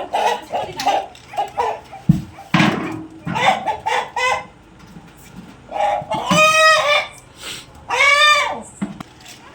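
Several junglefowl cluck and squawk close by in uneven bursts, with a couple of loud crowing calls standing out.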